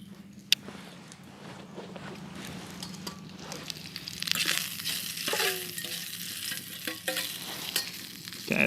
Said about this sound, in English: so I think our bacon is done